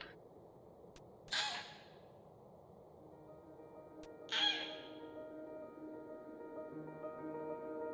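A strange bird in the game Inked gives two sharp, harsh caw-like calls a few seconds apart over quiet ambient game tones, with no talking.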